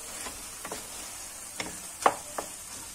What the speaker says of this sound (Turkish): Şimdi güzel karıştırıyorum böyle.